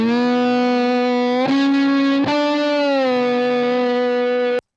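Electric guitar with Haas-effect stereo widening, sustained distorted chords ringing loud and thick, with two strummed changes partway through before stopping abruptly.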